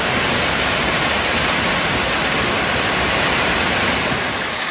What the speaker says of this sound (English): Just a little mini waterfall on the way, or on the way down or up, depending on how you're going.